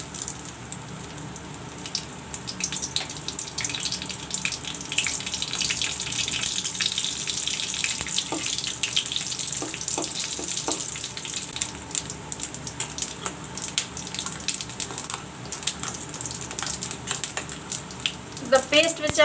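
Cumin seeds and bay leaves sizzle in hot oil for a cauliflower and potato dry dish, a steady close hiss with faint crackles and occasional clinks running throughout.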